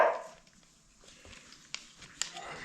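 A dog named Punk gives a couple of sharp, separate barks at a moderate distance over quiet background noise, with a brief higher sound at the very start.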